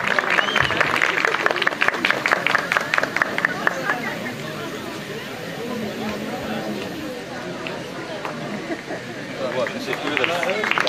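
Audience applause at an award ceremony during a park opening, scattered clapping that is loud at first and then thins into crowd chatter and murmur, with a voice talking over it.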